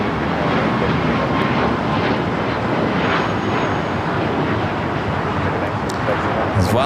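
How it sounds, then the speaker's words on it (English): A Boeing 777-300ER airliner arriving from Taipei at LAX gives off a steady, broad jet engine roar that holds at an even level throughout. "777-300ER coming up from Taipei"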